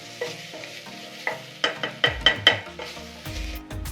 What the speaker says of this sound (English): 2 tablespoons of tomato puree, as I said. Give that a quick stir.